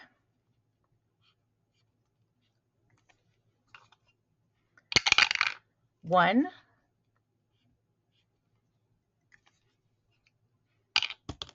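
Dice clatter into a dice tower in short bursts: a brief rattle, a rolling tumble, then another quick clatter near the end, close by and separated by long quiet gaps, with a single spoken word.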